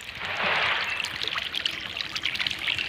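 Irrigation water flows across a farm field in a steady rushing trickle, heard close and fairly quiet, with a slight splashing surge near the start.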